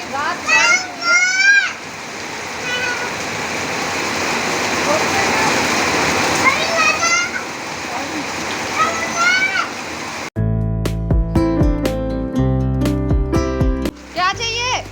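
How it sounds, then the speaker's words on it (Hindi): Heavy rain pours down after raining all night, a steady dense wash of water noise with a voice chattering over it, before music abruptly takes over near the end. "और बारिश हो रही है बहुत"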